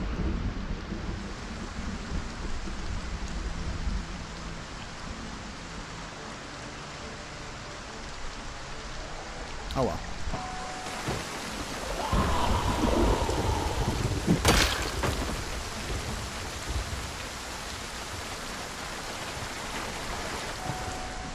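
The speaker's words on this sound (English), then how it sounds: "I may or may not have forgot how loud the storm was" In Project Zomboid, a heavy thunderstorm fills the scene with steady rain, and loud thunder cracks and rumbles roll through midway, one sharp crash standing out; a brief muttered voice appears once.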